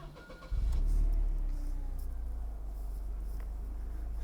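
Supercharged Mercedes SLK230 engine starting at the first try, a short crank followed by a loud catch and then a steady, close idle.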